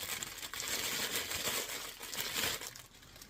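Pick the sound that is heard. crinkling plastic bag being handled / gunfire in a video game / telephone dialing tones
crinkling plastic bag being handled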